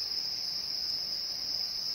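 Crickets chirp inside a cricket farming barn, a dense, steady high-pitched trill that holds unbroken at a moderate level, with no voices.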